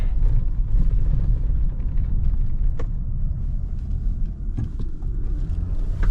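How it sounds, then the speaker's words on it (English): 2019 Infiniti QX60 SUV driving over bumps at about 20 mph, a continuous loud low rumble of road and suspension noise inside the cabin with faint knocks and rattles and no talk. "we approach it at 20 miles an hour and basically rattle ourselves around and compare it to other models"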